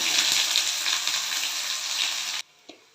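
Curry leaves and chopped onion hit hot oil and ghee, setting off a loud, steady, close sizzle that fills the kitchen, then cuts out abruptly and leaves only a brief faint clatter.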